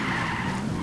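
An AI-driven car skids in Ghost Recon Wildlands, a steady rough screech of tires scraping over road with engine rumble beneath, loud and close, lasting just under a second without a break.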